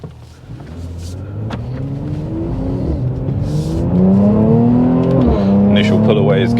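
A Mercedes-AMG C43 in Sport Plus mode pulls away hard, its engine note climbing through rising revs with gear changes audible as the pitch drops and rebuilds, loud and close from inside the car.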